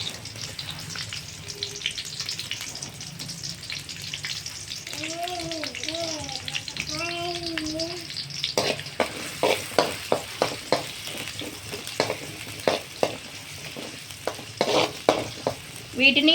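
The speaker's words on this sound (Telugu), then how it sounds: "రెండు చిన్న ఉల్లిపాయల్ని సన్నగా తరుక్కుని నూనెలో వేసుకోవాలి" Finely chopped onions fry in hot oil for mutton paya curry, a soft sizzle at first, then rhythmic scraping and stirring strokes of a spatula against the pan, close and fairly loud, with no talking.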